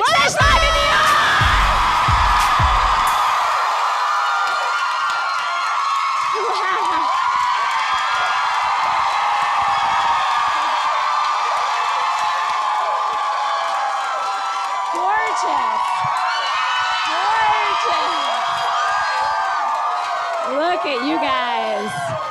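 A live audience at a comedy podcast show in New York cheers, whoops and yells continuously, a loud, dense crowd roar with scattered high shouts that holds throughout.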